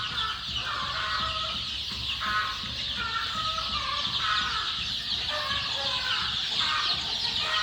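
Many chicks cheep continuously in a dense, high-pitched chorus, with steady low background noise underneath.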